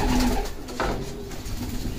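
Homing pigeon held in the hand, cooing close up with a few low, throaty coos over a light outdoor background, no talk.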